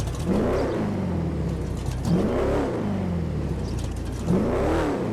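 The Frankenstange car engine in GTA Online revs up three times at a steady interval, each rising and falling swell sitting over a continuous mid-pitched engine drone, close and fairly loud.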